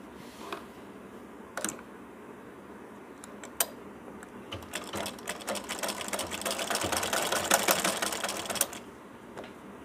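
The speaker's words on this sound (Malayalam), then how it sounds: "ബാക്ക് സൈഡിൽ നിന്നാണ് സ്റ്റിച്ച് ചെയ്യുന്നത്" A domestic sewing machine stitches a baby girl's night dress from the back side. It starts with a few short bursts, then settles into a longer, fast rattling run that grows louder before stopping.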